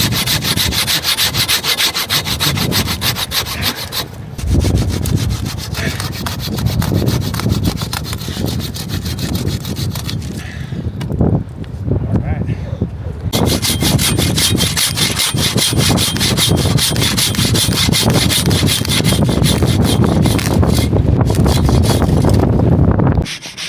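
Hand saw stroking back and forth through a fallen tree blocking a deep-snow trail near a mountain summit, loud close rhythmic rasping that runs almost continuously with a couple of brief pauses, wind noise in the background.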